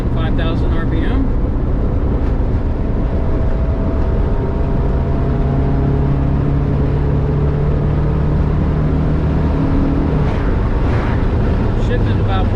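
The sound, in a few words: Honda K24A engine revving at 5,000 RPM in VW Vanagon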